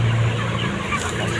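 Chickens clucking in a coop fitted with cloth curtains, a short burst of low clucks close by at the start, then quieter bird sounds over steady background noise.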